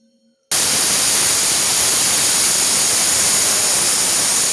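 A mixer grinder crushing mustard seeds for cabbage pachadi starts abruptly after a brief quiet moment and roars in a loud, steady, harsh whir close by, with no voices.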